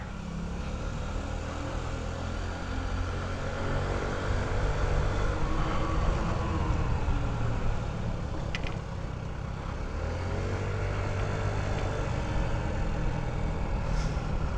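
A Honda Ruckus scooter with a fault that keeps it lagging near 28 mph drones steadily while being ridden, a continuous low engine hum under wind rumble with faint shifting tones, no voices.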